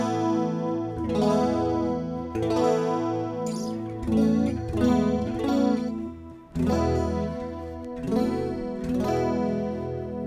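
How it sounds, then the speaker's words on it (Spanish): Electric guitar, a Strat-type, run through a native Logic chorus, giving a transparent, shimmering tone. Strummed chords and arpeggiated phrases ring out steadily and fairly loud, with no talking. "Un sonido muy muy muy natural, yo diría muy, muy transparente de chorus."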